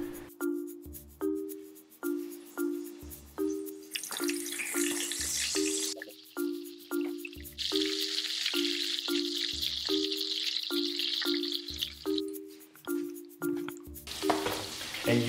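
Coconut shrimp fry in hot oil with a bright, crackling hiss that swells in bursts under a repeating tonal musical pattern that runs throughout.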